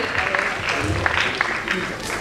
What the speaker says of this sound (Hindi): तो जोरदार तालियों के साथ इनका स्वागत कीजिए।